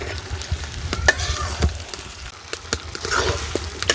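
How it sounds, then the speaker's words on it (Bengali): A spatula scrapes and stirs through thick, sticky jujube pickle with melting sugar in a wok, with a low sizzle and repeated clattering strokes throughout, close and fairly loud. "কড়াইয়ে তো বারবারই কিন্তু নাড়াচাড়া দিয়ে দিতে হবে একটু পরে পরে"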